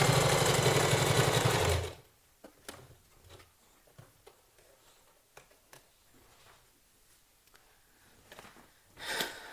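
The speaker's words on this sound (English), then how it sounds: "I'm gonna sew this in. I'm gonna sew to the edge only" A sewing machine stitching a quilt border runs loudly and close with a fast steady whir for about two seconds, then stops, leaving scattered soft clicks, handling taps and breaths before a brief burst of rustling.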